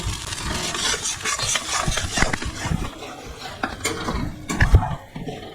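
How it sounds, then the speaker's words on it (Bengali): Green chilli paste being stirred in a pan while mutton curry is cooked, with intermittent scraping of a utensil against the metal and soft clinks, a close, moderately loud clatter and no talk. "এটা ভালো করে কাঁচা লঙ্কাটা যতক্ষণ না যায় ততক্ষণ আমি এটাকে নাড়ব।"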